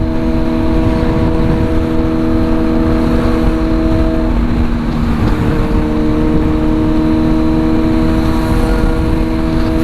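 A Kawasaki Z900 fitted with an LV full-system exhaust being ridden, its engine giving a loud, steady, droning hum that holds nearly constant throughout, with no talking.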